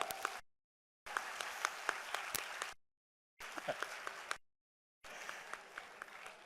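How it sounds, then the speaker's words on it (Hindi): Audience clapping in bursts at a yoga and ethnopharmacology event in Haridwar, three or four separate rounds of moderate applause divided by short silent gaps. "हाँ जोरदार ताली बजा दो एक बार"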